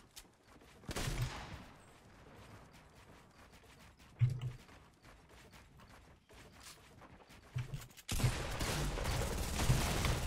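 Gunfire in the video game Fortnite, including pump and double-barrel shotgun blasts, heard as several loud separate bursts at about 1, 4.2 and 8 seconds, with a sustained barrage of noise filling the last two seconds.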